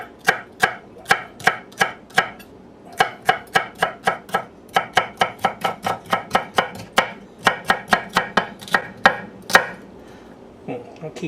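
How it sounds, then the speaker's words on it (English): A knife chops through celery on a cutting board in quick, steady strokes, some thirty crisp close taps in bursts, with brief pauses between runs and no talking. "And slice up some celery."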